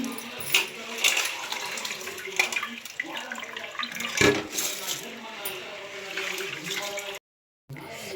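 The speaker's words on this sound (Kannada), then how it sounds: "ಇವಾಗ ಮೊಟ್ಟೆ ಎಲ್ಲ ತೆಗೆದಾದ್ಮೇಲೆ ಅಕ್ಕಿನ ತೊಳೆದು ಹಾಕೊಳ್ತಾ ಇದ್ದೀನಿ" Rice being washed under running water for egg biryani, a close splashing water flow with small grainy clinks and knocks, cut by a brief silent gap near the end.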